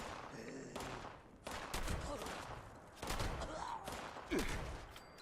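Rapid bursts of gunfire from the post-apocalyptic online game Fallout 76, loud, close, repeated volleys in several clusters with short gaps between them, no talk over the shots.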